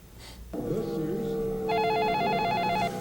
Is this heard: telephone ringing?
yes